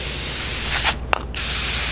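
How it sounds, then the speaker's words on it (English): A spray bottle of glass cleaner gives two quick hissing bursts, the second sharper and briefer, close to the microphone over a steady background hiss. "You just shake it up and just spray it."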